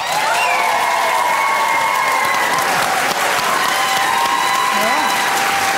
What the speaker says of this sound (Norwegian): Gi en stor applaus til Thomas Hentschen!